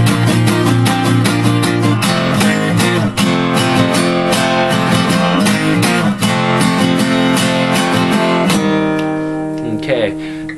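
Acoustic guitar strumming the second-verse bar of a song, a dense, loud and steady run of rapid downstrokes with ringing open chords, played alone and easing off slightly at the end.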